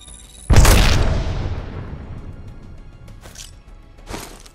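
A frag grenade in the Apex Legends game detonates with one loud, close boom that rolls off into a long fading rumble, followed by two short, fainter bursts.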